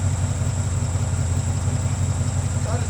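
1971 Ford Mustang Mach 1 with a 302 V8 and a large carburetor idling, a loud, close, steady low rumble with an even lumpy pulse and a constant high whine above it.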